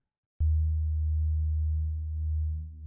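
A Serum synth sub oscillator produces a pure sine bass tone layered under a liquid bass patch, starting abruptly and holding one steady low note with slight swells in level, alone and clean.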